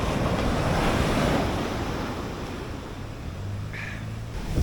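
Ocean waves break on the shore at Enoshima, an island near Tokyo, with a loud, close surf wash and a roaring swell that eases slightly midway, mixed with gusty wind buffeting the microphone.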